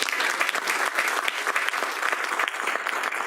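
Audience applause fills a fireside chat with Dilawar Syed, president of OPEN Global, as a room claps steadily and densely, with no voices over it.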